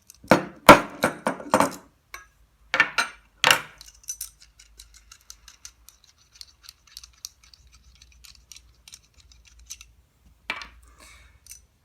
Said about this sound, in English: Now using a wheel nut spanner this side and a cone spanner on the remaining side, we should be able to undo the remaining cone.